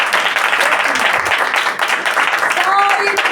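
A congregation applauds during a Sunday worship meeting, a dense, steady patter of clapping that runs through the whole moment while a preacher's voice carries on over it.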